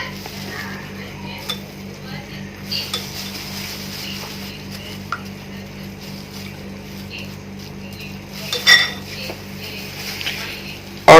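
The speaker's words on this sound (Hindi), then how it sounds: "अब जो है हम ब्रेड के स्लाइसेस पर एक खाने के चमचे से अंडे के बैटर को लगाएंगे दोनों तरफ।" Spoon scraping and tapping as egg batter is spread on bread slices, soft intermittent clinks and rubs over a steady low background hum.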